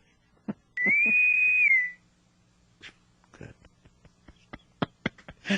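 A single sharp whistle blast rings out for about a second, bright and sustained, followed by scattered knocks and thumps.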